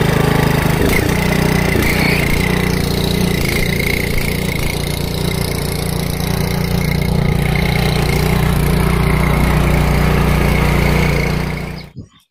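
A mini power tiller's small engine running steadily after a kick start, a loud, close, even drone with a low throbbing hum that cuts off abruptly at the end.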